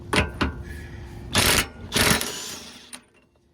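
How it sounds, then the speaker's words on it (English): An impact gun runs off a 32 mm rear hub nut on a 2001 Honda Accord, giving several short loud rattling bursts of hammering with brief pauses between them, then a quieter tail. "Now we're going to run it off with our gun."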